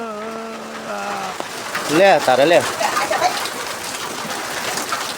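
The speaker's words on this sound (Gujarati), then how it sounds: "જો સણકા કરે વરસાદ હો" Steady rain hisses throughout outdoors, with pigeons cooing nearby and people talking over it.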